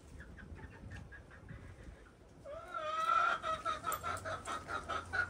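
Several chickens cluck and squawk nearby in a rhythmic series of calls, building louder partway through over a steady farmyard background.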